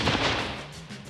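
A watermelon packed with tannerite is shot and blows apart, one loud close blast with a broad crashing burst that fades into a rumbling decay.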